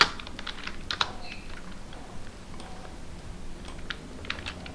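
Fingers tap a computer keyboard in quick, irregular bursts of light clicks, close and fairly quiet, without speech.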